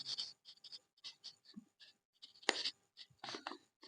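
Chalk or marker writing on a board during a class, short scratchy strokes in quick, uneven bursts with brief pauses between them, close and fairly quiet.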